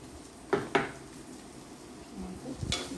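A utensil scrapes and knocks against a pan while sardine curry masala is stirred. Two sharp clinks come early and another near the end over a low background sizzle, with no talk.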